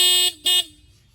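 Single horn of a Yamaha MT-15 motorcycle sounds in two short, loud honks close by, with a brief gap between them and no talking.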